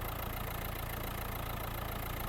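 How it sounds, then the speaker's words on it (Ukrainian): A 2018 Renault Kadjar engine idling, a steady even hum and rumble that stays constant throughout without revving, heard alone at moderate level. "Так, Двигунчик працює все рівненько"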